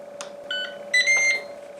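A Ninja XL Pro grill and griddle beeps as it is stopped and powered off: a few short, bright electronic bleeps of rising pitch, close and clear over a steady low hum, with no voices.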